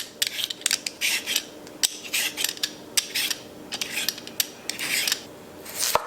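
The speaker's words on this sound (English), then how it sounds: "So we have 3 medium-sized potatoes and peel the skin off." Three medium-sized potatoes being peeled, giving a steady run of close, scraping strokes with short pauses and a soft knock near the end, no talking.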